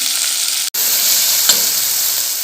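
Masala spices fry in a pan with a loud, even hiss up close, broken by a momentary cutoff and a single soft scrape or tap; no one speaks.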